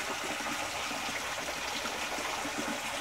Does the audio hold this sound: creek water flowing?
yes